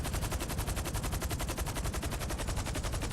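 Infantry gunfire in GTA V Online, a rapid, continuous automatic burst with evenly spaced shots, loud and close throughout.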